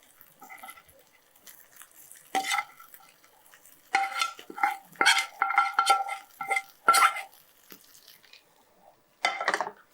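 A spoon scrapes and clinks against a pan in short bursts of gentle stirring of curry with dried fish, separated by quiet pauses.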